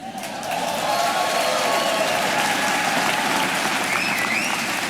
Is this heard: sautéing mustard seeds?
no